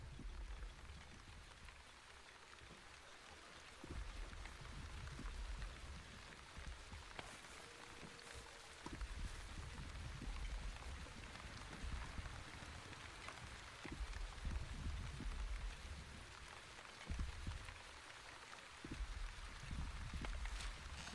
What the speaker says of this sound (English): And it looks like we're gonna get some more rain.